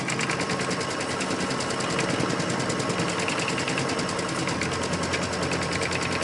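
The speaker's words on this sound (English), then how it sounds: "now that's going to stitch just that little corner and give me a little design" An embroidery machine stitches a small design into a quilt corner, a rapid, even mechanical chatter running steadily and close throughout, with no talking.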